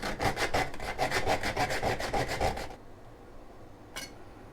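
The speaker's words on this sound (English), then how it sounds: "This is a nutmeg grater." Nutmeg scraped against a small metal nutmeg grater for sweet potato pie, a quick run of about fifteen rhythmic rasping strokes that stops suddenly, followed by one lone scrape after a short pause.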